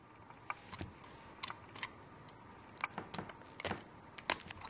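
A Magic: The Gathering booster pack being cut open from the back, with a series of quiet, crisp snips and crinkly foil rustles spread over several seconds, close up and without speech.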